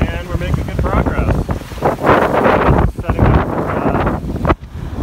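Wind of about 12 to 15 knots buffets the microphone aboard a Corsair 24 trimaran sailing between Florida and the Bahamas, with loud, gusty roaring rising and falling against water rushing along the hull.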